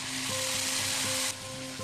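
Sour yogurt going into chicken sizzling in a pan, a loud steady fry hiss that drops slightly partway through, with soft clinks and stirring over it and no talk.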